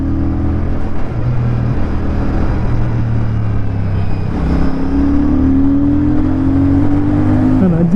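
Royal Enfield Shotgun 650 twin bobber motorcycle accelerating through its gears, a loud, close, steady exhaust drone climbing in pitch with a shift change and a final rev rise, a voice faintly present.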